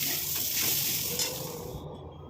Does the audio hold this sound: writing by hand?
no